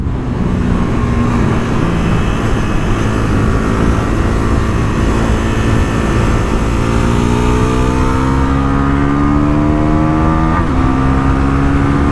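A 2024 Bajaj Pulsar NS400Z motorcycle pulling hard in sixth gear, its engine note droning loud and close and climbing slowly in pitch, with heavy wind rush throughout.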